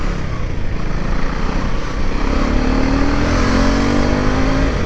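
Motorcycle engine humming while riding on the road to Pune, a steady loud drone held around mid revs with a rising tonal whine and heavy wind rush throughout, no talking.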